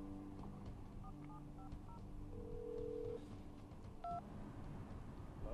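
Faint keypad dialing on a phone calling a mobile: a string of short, separate beep tones plus one longer steady tone, heard quietly over a low background hum.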